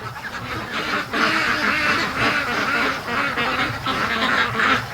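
A large flock of ducklings quacks continuously inside a barn on a free-range duck farm, a loud, dense chorus of overlapping calls that swells in waves.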